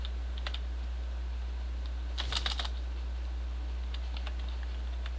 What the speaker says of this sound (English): just press spacebar as soon as you hit the floor